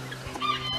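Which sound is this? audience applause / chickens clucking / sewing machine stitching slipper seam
chickens clucking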